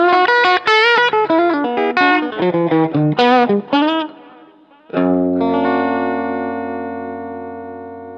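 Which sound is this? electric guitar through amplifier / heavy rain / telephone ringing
electric guitar through amplifier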